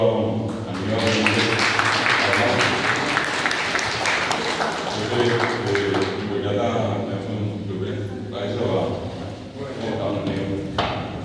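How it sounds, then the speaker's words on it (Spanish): An audience applauds as a guest is welcomed onto a Guarani-language program, a sustained burst of clapping that fades after several seconds while a host keeps talking over it. "un aplauso para don Aníbal."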